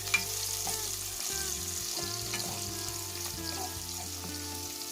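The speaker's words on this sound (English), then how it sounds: "add it to our pan. Then give it a stir." Legume and vegetable stew ingredients are stirred in a frying pan over a steady, close sizzle, with the soft scrape and shuffle of the spoon through the food running throughout.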